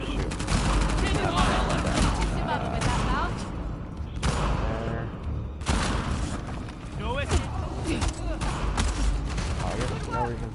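Video game gunfire in Uncharted The Lost Legacy, dense sustained bursts of shots and booms filling the whole stretch, loud and continuous with brief lulls.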